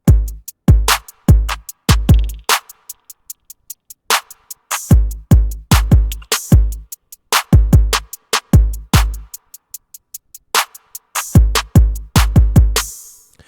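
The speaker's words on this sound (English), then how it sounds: "all of this is just working together to give us the drums that sound like this" A punchy R&B drum loop with deep kicks, crisp snare hits and rapid ticking hi-hats, repeating steadily and loud with short gaps.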